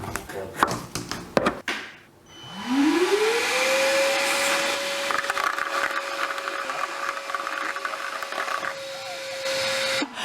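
A vacuum cleaner fitted with a 3D-printed cyclone separator is switched on after some handling clatter, its motor whining up in pitch and then holding a loud, steady roar at close range.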